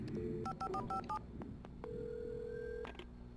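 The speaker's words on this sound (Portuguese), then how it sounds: "Usar telefone." A telephone is dialed in the video game Alan Wake Remastered, with a quick run of several keypad tones followed by a longer single tone over a low ambient game background.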